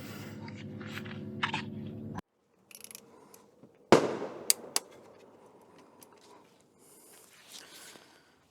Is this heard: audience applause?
no